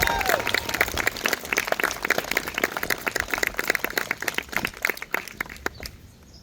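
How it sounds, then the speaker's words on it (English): Audience applause at a school graduation ceremony, many hands clapping in a dense, sustained burst that thins and fades toward the end. "Can we give her a round of applause, please?"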